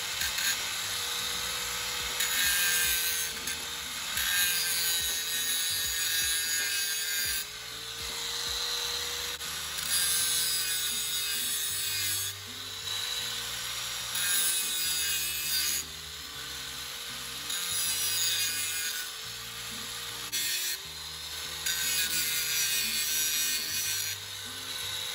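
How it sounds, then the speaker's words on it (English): A grinder works back a black metal plate in a shop, a continuous rough rasping grind with rhythmic surges and dips as the tool is pushed across the steel, over a steady high whine. "that black plate, grind it back a bit"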